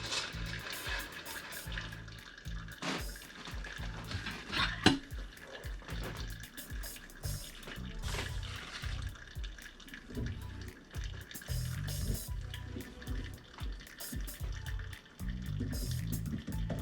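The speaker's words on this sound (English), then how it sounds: "And now we'll transfer the filter to the storage container while keeping the water flowing through the filter" Water pours steadily through a coffee filter into a storage container, a continuous close splashing and trickling stream with small drips and clinks, running unbroken with no talking.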